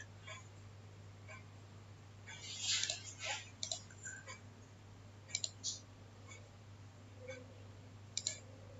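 Mouse clicks on a computer while finishing a setup, a handful of soft, sharp clicks scattered over steady low background hum, a small cluster near the middle and single clicks later.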